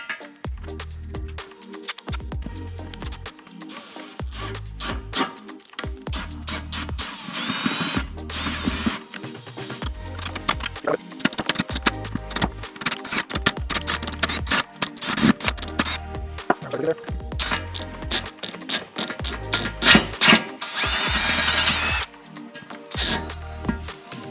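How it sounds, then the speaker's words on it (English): A power drill with a tap guide drills out a stripped oil drain plug hole in repeated short bursts, each pulse starting and stopping in a stuttering rhythm, with grinding and scraping between them, close and fairly loud. "my tap guide here to try and drill as straight as possible"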